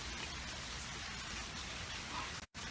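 Steady rain falls in a broad, even hiss on a suburban Colorado outing with young children, continuous and fairly close, then cuts off abruptly near the end.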